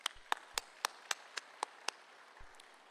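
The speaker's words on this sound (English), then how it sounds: "Give yourselves a round of applause." About eight slow, evenly spaced hand claps ring out faintly at a police ceremony, followed by a couple of softer ones, with quiet in between.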